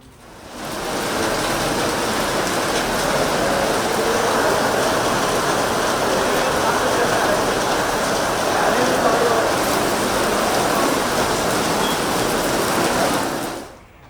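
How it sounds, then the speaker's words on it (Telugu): Heavy rain pours steadily across parts of Visakhapatnam, a dense, even wash of falling water that holds loud and unbroken for the whole stretch, fading in at the start and cutting off at the end. "విశాఖలోని పలు ప్రాంతాల్లో వర్షం కురుస్తుంది"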